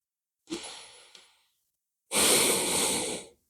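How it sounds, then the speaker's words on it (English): Two audible breaths during a yoga rabbit pose: a short, breathy exhale, then a pause, then a longer and louder sustained exhale, close to the mic with no talk. "Breathe out."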